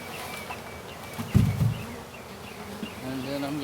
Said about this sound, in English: Now you'll never get all the bees out.